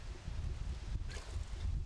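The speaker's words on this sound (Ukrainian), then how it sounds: "такий сильний вітер у нас" Strong wind buffets the microphone in low, uneven rumbling gusts, with no one speaking.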